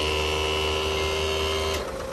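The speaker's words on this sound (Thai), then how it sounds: "คันนี้ยกหัวแบบเป็นมอเตอร์นะครับผมใช้ไฮดรอลิกยก" A steady electric motor whine with strong tonal hum from the hydraulic cab-lift motor of a 2016 Hino Victor 500 truck runs continuously, then cuts out as the cab reaches full tilt, leaving a lower mechanical rumble.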